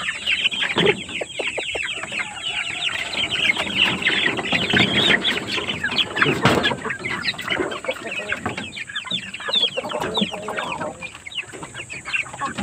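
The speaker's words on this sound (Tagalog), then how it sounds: "So pakainin natin yung mga manok natin. Unahin lang natin tong nasa likod ko na mga broiler oh." Broiler chickens on a poultry farm cluck continuously as a flock at feeding time, a dense, close chorus of overlapping calls with occasional louder squawks.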